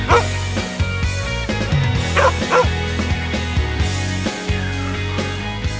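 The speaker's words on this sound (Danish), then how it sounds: "Men nu er der spændt 6 hunde foran." Six sled dogs harnessed to a sled outside Røros, Norway bark, yip and whine excitedly in a busy overlapping chorus, close and loud, with short bursts piling over one another.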